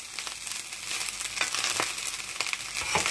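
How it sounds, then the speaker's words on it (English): Nigerian fried rice sizzling in a pan, a steady dense crackle of frying with frequent stirring scrapes and pops, close and continuous with no talk. "So we need to fry a little more bit."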